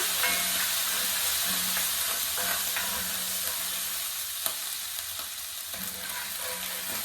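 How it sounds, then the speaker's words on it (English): Garlic sautéing in a pan for chicken Florentine, a continuous loud, even sizzle and hiss with a few faint stirring taps, no talking. "I'm just going to saute that for about a minute."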